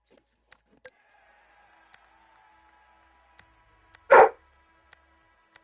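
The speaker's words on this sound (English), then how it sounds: "There's my dog, Axel." A pet puppy dog named Axel lets out one sharp, loud bark amid a quiet room, with faint clicks and a low hum around it.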